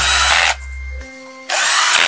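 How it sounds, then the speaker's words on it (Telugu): A power drill whirs loudly in two bursts while driving screws into a carburetor during a primary push-button repair, with a short quieter gap between the runs. "ఇప్పుడు మిగతా 2 స్క్రూలు కూడా మనము ఎక్కించుకోవాలండి."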